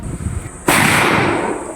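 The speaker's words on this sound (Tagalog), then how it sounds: "At pagkatapos nga ng orientation ay nagsimula na rin kaming pumutok." A single sharp gunshot cracks out at an outdoor firing range in Pinamalayan, loud and close, then leaves a long ringing decay after a quiet stretch of faint background noise.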